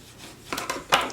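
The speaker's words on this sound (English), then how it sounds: "I'm going to go in there with my bone folder and just push that flap flat" A bone folder presses a paper box flap flat in a crafting session, giving a few soft, close scraping and tapping rubs over about a second, with one slightly sharper stroke at the end.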